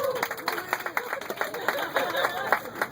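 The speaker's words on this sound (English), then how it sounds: "And big applause for our driver also" A tour group audience claps in lively applause for their bus driver on a sightseeing tour in St. Petersburg, Russia; dense, close clapping continues steadily with voices mixed underneath.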